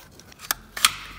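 A zip tie is snipped off in a MINI Cooper R56 petrol engine bay, giving two sharp, close clicks about a third of a second apart against a quiet background.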